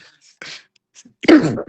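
A single sharp, breathy sneeze bursts out near the mic after a few soft sounds, followed by a brief tail of noise.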